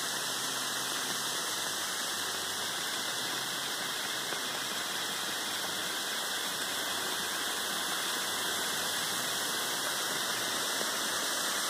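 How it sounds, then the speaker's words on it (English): Quartz gold reacting in 35% hydrogen peroxide gives a continuous, dense fizzing and bubbling hiss, like rolling boil, steady and unbroken throughout with no voices. "Now you can see it's really starting to cook. I do expect this will probably boil over."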